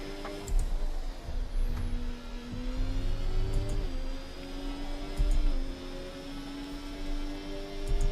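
Sustained whining hum of the Haas F1 car engine at full speed in the F1 24 game at Monza, a steady drone holding pitch with slight shifts over eight seconds, with no talk.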